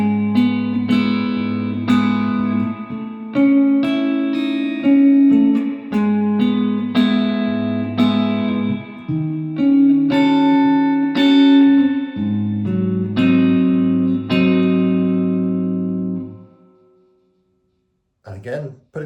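Guitar plays the second verse of a song as a steady, close solo instrumental run of picked chords and melody notes that fades out near the end, with no voice over it.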